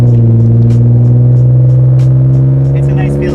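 A 1999 Nissan Skyline GT with a Tomei exhaust drones loudly from inside the cabin, a deep steady engine hum with a faint rising rev as it drives along, no talk over it.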